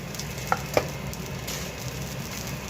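Fried fish pieces going into a hot kadai produce a continuous moderate sizzle, with two small sharp clinks near the start as pieces are dropped in.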